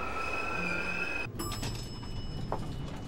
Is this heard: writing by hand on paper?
no